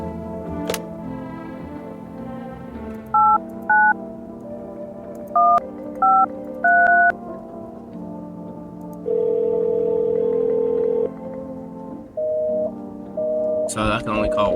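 Telephone keypad tones sound in the horror video game No, I'm Not a Human: a few short dual-tone beeps in quick pairs, then a long steady tone and more beeps, all playing over steady background game music.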